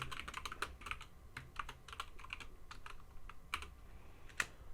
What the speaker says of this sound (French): Je vais taper un petit ls